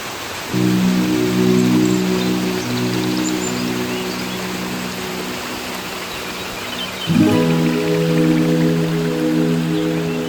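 Water flows steadily in a stream just upstream of Miyunu Ella waterfall at Gawaragiriya, a constant close rushing wash, with a tonal drone over it that stops and returns.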